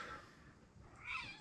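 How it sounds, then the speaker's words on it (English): A cat meows in an echoey room, a quiet, drawn-out call rising near the end over faint background noise. "Cat, you're going to hear it."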